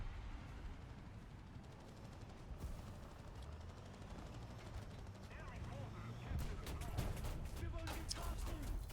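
Gunfire and cannon shots in a tank battle game featuring T-90 and T-80 tanks crackle and thump under a faint background mix, growing sharper and denser toward the end, with a voice speaking briefly.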